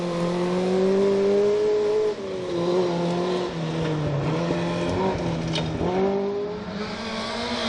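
An Opel Manta rally car drives a forest stage at the Woodpecker Stages rally, its engine revving and shifting pitch as it accelerates and lifts, loud and close with tyre noise and no talk.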